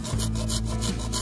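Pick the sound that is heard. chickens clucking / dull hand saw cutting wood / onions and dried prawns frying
dull hand saw cutting wood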